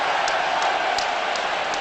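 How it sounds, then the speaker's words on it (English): Motherwell supporters at a Motherwell v Celtic football match raise an ironic cheer, a dense, loud stadium roar that holds steady for under two seconds with a few sharper shouts poking through. "Brings an ironic cheer from the Motherwell supporters here at Fear Park"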